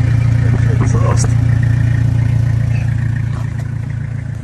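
A 1992 Toyota Hiace 4x4 diesel camper idles steadily with a loud, continuous low rumble and faint clatter, holding evenly before easing off slightly near the end.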